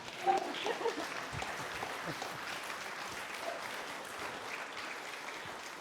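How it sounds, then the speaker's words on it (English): A crowd at a neighbourhood planning talk claps in a steady wash of applause that is faint and far off and keeps going for several seconds with no speech over it. "I think you can clap a little louder than that."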